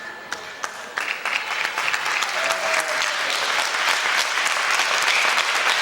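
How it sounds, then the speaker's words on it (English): A wrestling crowd applauds after the first round of a televised UK bout, with scattered claps swelling into sustained applause from a large audience in a hall, while faint voices talk underneath. "Most of the applause going for Ian McGregor, who's done a tremendous job in this first round."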